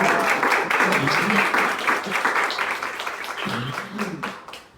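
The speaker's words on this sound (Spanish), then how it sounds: "un gran aplauso" Applause from a seated audience at an art and politics talk greets the invited speaker, a fairly close, continuous patter of clapping with faint voices mixed in before it tapers off.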